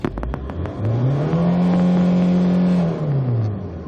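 A 2001 Hyundai Terracan JX250 4WD diesel engine revs up, its pitch climbing and holding high before dropping back down, loud and close with no voices.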